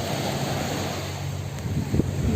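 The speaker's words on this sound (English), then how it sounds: "It's really windy over here, but it's nice" Strong wind blowing by the sea on Vypin Island, a steady close rush and buffeting across the microphone with surf beneath it, continuous and fairly loud, with a brief bump near the end.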